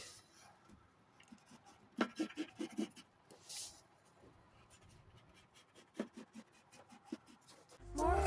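A regular pencil lightly traces around fabric hexagon pieces for English paper piecing patchwork, making faint, soft scratchy strokes in irregular short bursts against a quiet room.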